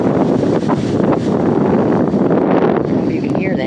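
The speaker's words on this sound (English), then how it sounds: "I don't know if you can hear that, but it's windy." Strong wind buffets the microphone outdoors near a duck kennel, a loud, continuous roaring rush with gusts and rustling debris throughout.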